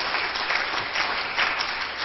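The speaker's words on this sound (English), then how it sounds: "could you just give God a hand clap of praise" Congregation at a Pentecostal church service clapping hands in praise, a steady dense applause throughout with no break.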